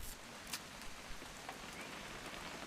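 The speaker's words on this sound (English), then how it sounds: "It's gonna rain the whole weekend" Steady rain falls in the video game What Remains of Edith Finch, a soft, even patter of drops on surfaces with a few sharper taps, quiet and continuous with no voices.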